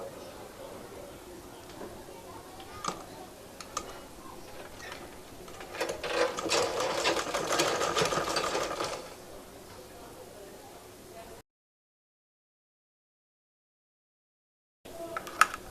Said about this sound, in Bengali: তারপর সেলাইটা করব